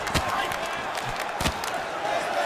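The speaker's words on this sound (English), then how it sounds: "you hear the crowd react every time they come together" An arena crowd at an MMA fight featuring Michael Bisping roars and murmurs in the background, swelling with sharp bursts as strikes land, while a commentator talks over it.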